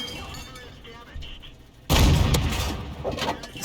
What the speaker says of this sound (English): This is definitely the 57mm gun.